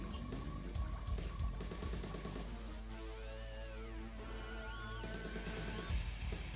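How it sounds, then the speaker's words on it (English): A Mirage tank firing on Chrono Legionnaires in a Red Alert style strategy match, heard as quiet repeated shots and crackling impacts over a low hum, with sweeping tonal effects layered through the middle. "we have a Mirage tank killing the Chrono Legionnaires who were trying to take out the airfield"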